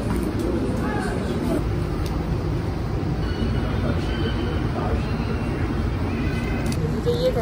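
A subway train at a São Paulo metro station rumbles steadily and close, with a dense low roar, faint wheel squeals and brief higher tones over the clatter, while voices are heard faintly underneath.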